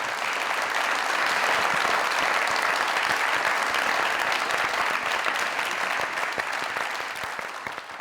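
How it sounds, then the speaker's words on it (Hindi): A large studio audience at a Pakistani comedy talk show breaks into loud, sustained applause welcoming a film star and an actress, a dense roar of clapping that holds steady and eases slightly at the end. "ताली इतनी जोर से बजनी चाहिए कि एक हथेली दूसरी हथेली पे लगे"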